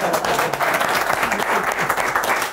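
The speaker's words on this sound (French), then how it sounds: "gros tonnerre d'applaudissements à Kader" Audience applause for a rapper at a freestyle rap battle, a dense, sustained wash of clapping from a crowd, loud and continuous with no pauses.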